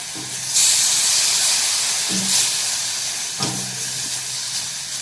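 Loud, continuous sizzling hiss of hot oil as a spice tempering for masala okra is fried on low flame, swelling at moments as ingredients hit the pan, with faint scraping underneath.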